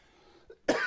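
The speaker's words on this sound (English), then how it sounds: "I start coughing now." A single short cough bursts out close by after a brief quiet moment, preceded by a small throaty sound.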